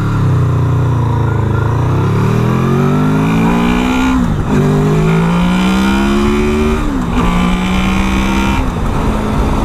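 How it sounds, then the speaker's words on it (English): A 2018 Honda VFR800X Crossrunner motorcycle engine revs loud and close, its pitch climbing through several gears with brief dips between shifts, and no talking over it. "Hopefully you could hear the engine there. It just sounds lovely."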